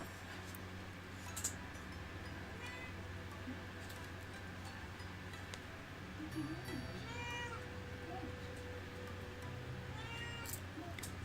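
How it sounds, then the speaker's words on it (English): A cat sitting at the end of a desk meows a few times in a quiet indoor room, short faint cries rising over a steady hum and background chatter. "If you hear a cat meow like just then, that is Felix, who's sat at the end of the"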